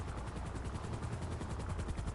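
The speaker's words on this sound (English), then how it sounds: "you're gonna have to listen to the helicopter noises" A luxury helicopter in GTA Online thrums close and loud with a fast, even rotor beat that pulses steadily throughout, with no voices over it.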